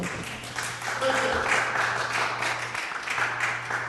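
A small audience at a city land use and transportation committee meeting gives a brief round of applause, moderately loud and fairly distant, over a steady low electrical hum in the room.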